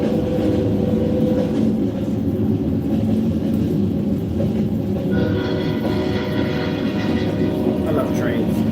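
Passing train heard as a broad, continuous rumble with a steady roar throughout, moderately loud and nearby, with faint higher squeals toward the end.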